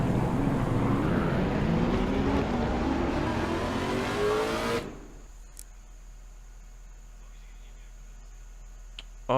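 Race car engines in a sim racing video game roar loudly and continuously, with rising revs, then cut off abruptly to near silence with a few faint clicks.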